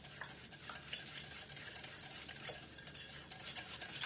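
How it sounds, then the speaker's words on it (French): A spoon works steadily through apple and peanut finger batter, giving continuous soft scraping and clinking against the bowl, close and quiet with no voices. "Et je viens remélanger tout l'ensemble"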